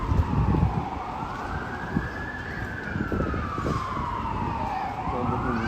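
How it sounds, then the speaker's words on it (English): An ambulance siren wails, rising and falling in long sweeps, loud and close, over a steady rumble of city traffic at Dundas and Jarvis, Toronto. "Ambulance is coming for him."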